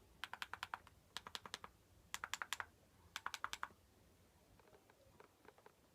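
Left and right touchpad buttons on a small touchscreen laptop are clicked in quick bursts of crisp, close clicks, with a few fainter clicks trailing off at the end.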